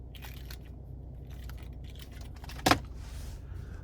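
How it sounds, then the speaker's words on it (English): A 2023 Genesis G80 Sport Prestige key fob jangles in one short, close burst over a steady low cabin hum, with no talking. "here is our key fob"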